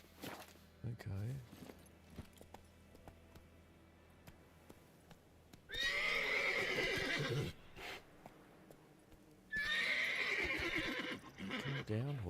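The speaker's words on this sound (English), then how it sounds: "Calm down, horsey." A horse in the video game The Witcher 3 lets out two loud, drawn-out neighs, separated by a pause, with quiet hoof clip-clops and a speaking voice in the quieter stretches.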